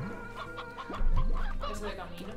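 Chickens in Slime Rancher give several clucks over game background noise, and a low thump lands midway through.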